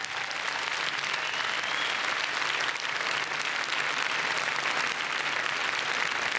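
Loud, dense applause from a large crowd at the Cannes 2016 film festival red-carpet steps, cheering jury president George Miller, continuous clapping filling the whole stretch.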